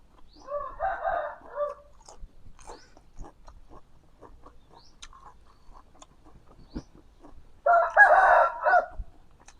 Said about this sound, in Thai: เสียงไก่เสียงนกเสียงหมา